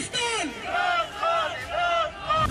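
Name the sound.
protesters chanting slogans against election commission and government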